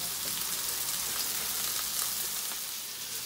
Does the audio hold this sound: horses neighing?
no